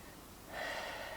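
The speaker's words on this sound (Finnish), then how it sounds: "Hengität sisään" A single inhale during a pelvic floor exercise: quiet background, then a close, soft breath drawn in sharply through the nose midway and held briefly.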